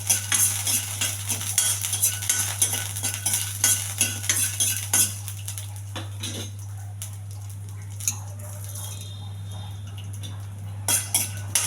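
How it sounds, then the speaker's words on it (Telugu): Peanuts roasting in a little oil in a pan, giving steady dense clinks and scrapes of a utensil against the metal pan, with a constant low hum underneath and no voices. "కొద్దిగా నూనె, పల్లీలకు దోరగా ఎగించాలండి"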